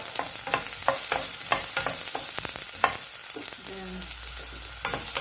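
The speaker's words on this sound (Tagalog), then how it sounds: "The oil is been hot. Put it in stir fry a little bit." Egg noodles stir-frying in hot oil, a close, loud sizzle broken by repeated scraping and tossing strokes, with a brief spoken word early on.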